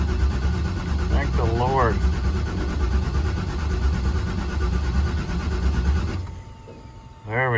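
An LS-swapped Chevrolet C10 engine turns over and runs at a steady low idle rumble, close and loud, with someone speaking over it briefly; the engine note drops away near the end.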